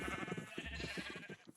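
Sheep on a video game farm bleat in a rapid run of short, wavering cries, several calls overlapping at moderate volume with no talk.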